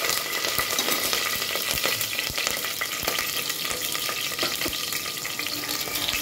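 Green chillies fry in a spice paste in a pan for prawn biryani, giving a steady close sizzle with repeated scraping stir strokes and no voices.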